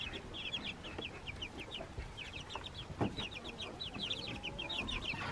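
Young Black Copper Marans and Easter Egger chickens clucking and cheeping in a soft, steady chatter over a continuous background hiss, several birds close by, no talking.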